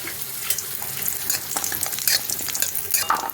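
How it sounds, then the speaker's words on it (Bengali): Bori lentil dumplings fry in hot oil for shukto, giving a continuous crackling sizzle broken by the scrape of stirring, with no voices. "এখন আমি বড়িগুলো দিয়ে একটু ভেজে নেব"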